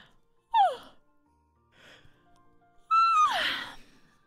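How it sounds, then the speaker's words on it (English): Two drawn-out yawns, each a voiced, falling moan that ends in breathy air, the second longer and louder, with a soft breath in the quiet gap between them. "Yawn. Yawn."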